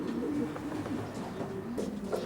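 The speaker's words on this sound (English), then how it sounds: "he's got a few Van Braun pigeons" Racing pigeons, ARL Kirkpatrick and Van Braun birds, coo softly and continuously inside a loft, with several overlapping low throaty calls close by and no talk.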